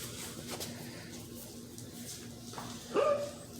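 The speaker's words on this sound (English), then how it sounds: "The outside pooches are throwing a fit because they know the puppies are in here and they want to come out and play with them." Dogs barking and whining outdoors near a room of basset hound puppies, faint and distant under background noise, with one sharper yelp near the end.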